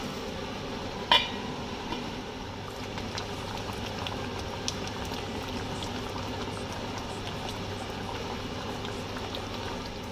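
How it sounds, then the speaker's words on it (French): Tomato cooks in oil inside a covered pot for an Ivorian jumblé sauce, giving a soft continuous crackling sizzle under a steady low hum, with one brief clatter near the start. "je vais refermer pour que la tomate puisse cuire un peu avec l'huile, que ça grille un peu"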